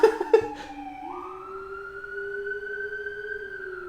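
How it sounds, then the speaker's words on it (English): A police siren sounds inside a music track: a few short chirps give way to a rising, sustained wail that holds steady and clear on its own. "If you can't hear that, that's a police siren."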